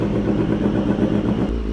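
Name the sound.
BMW HP4 race motorcycle engine revving with SC Project exhaust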